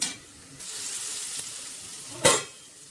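Chili powder is stirred into a sizzling pan for drumstick and tomato pulusu, a soft continuous fry broken by scraping stirs, one louder sweep near the end.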